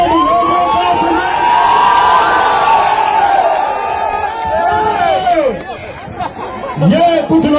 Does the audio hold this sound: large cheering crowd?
yes